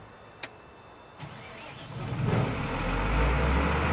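A vehicle engine in the game Airport Sim cranks and catches after a couple of short clicks, then settles into a steady, rising idle that fills the rest of the clip.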